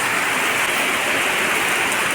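Steady rain drums on the roof of a village house, a dense even patter that stays constant from start to finish with no voices.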